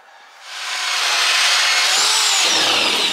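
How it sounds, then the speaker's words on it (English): A power drill spins up to a high whine and bores steadily into wood, loud and close. "I want to drill some from the front, some from the back, so it doesn't split out completely."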